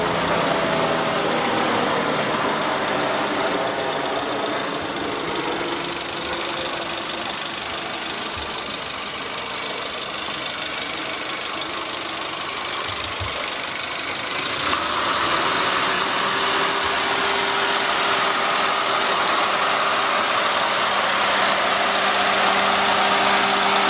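A Daihatsu Terios TS Extra engine idles steadily throughout, a continuous low mechanical hum with a faint knocking texture, recorded close with a brief voice partway through.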